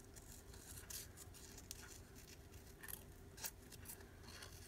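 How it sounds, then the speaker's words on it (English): Scissors snip washi paper in small, fussy cuts: quiet, close, irregular clips over a faint background hum. "what I'm gonna do is fussy cut it out."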